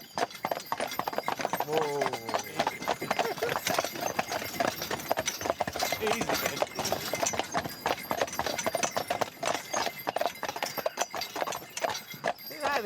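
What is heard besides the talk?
horse hooves trotting up a hill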